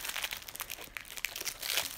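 Quiet, irregular crinkling and crackling of a cellophane wrapper around a Lush bar, handled close by in short rustling bursts.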